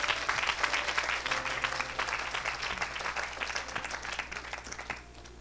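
A congregation applauds steadily during a Thursday church service, dense sustained clapping from a crowd that fades slightly toward the end, with faint voices underneath.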